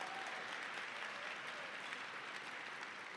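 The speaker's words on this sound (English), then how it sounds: "Yes, definitely a round of applause for that." A dinner audience applauds in a steady, dense round of clapping that holds for a few seconds, heard from a distance at fairly low level.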